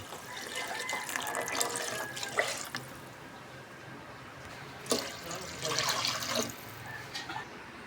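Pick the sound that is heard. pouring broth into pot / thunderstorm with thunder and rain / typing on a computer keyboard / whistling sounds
pouring broth into pot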